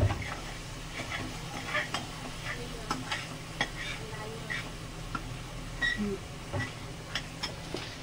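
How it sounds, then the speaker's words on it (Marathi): Spatula scraping and stirring vada pav potato filling in a pan, a steady rhythm of close clinks and soft scrapes over a faint sizzle, with a little speech in the background. "ह्याला आपल्याला एकदम मस्तपैकी मिक्स करून घ्यायचे"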